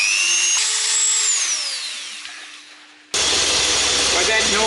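A belt sander runs steadily in a workshop during a model build, a whining mechanical drone that starts quieter, fades slightly, then cuts to a louder, broader roar for the final seconds.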